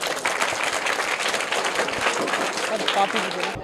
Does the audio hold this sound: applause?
yes